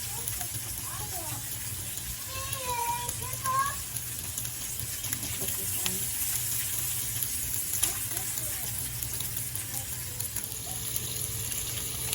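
A freshly flipped bacon cheeseburger patty sizzling on a cooking surface, a steady close hiss and crackle throughout, with faint background sounds overhead.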